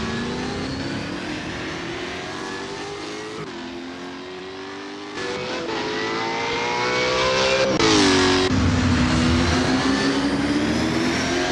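V8 Supercars in Assetto Corsa at Albert Park roar off the race start, several engines layering in a loud, rising drone that climbs and swells as the field accelerates.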